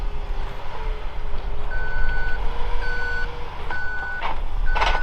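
A skid steer backing up on a farm silage pile emits a steady train of evenly spaced reversing beeps, loud and close over a constant diesel engine rumble.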